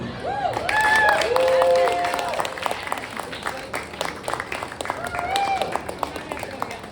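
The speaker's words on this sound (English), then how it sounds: "Everybody give Debbie a little extra level of applause there." An audience applauds after a live poetry reading, with a burst of clapping building at the start and then thinning to scattered claps, while a voice speaks over it.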